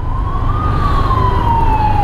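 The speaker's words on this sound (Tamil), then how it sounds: "ஆம்புலன்ஸ் வேறு பின்னாடி" Ambulance siren wailing behind traffic at a stopped signal, a loud, near tone sweeping slowly up and down over a low engine and road rumble, with no talking.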